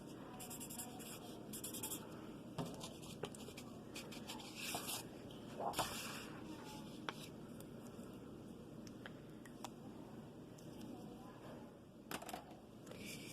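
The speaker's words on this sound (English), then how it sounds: "I'm going to take a Sharpie and I'm going to write my name on the back of the paper" A Sharpie marker writes a name on paper with soft, close scratching strokes in short bursts, faint under quiet background noise.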